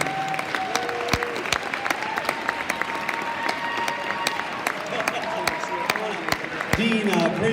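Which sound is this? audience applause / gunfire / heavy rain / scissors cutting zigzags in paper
audience applause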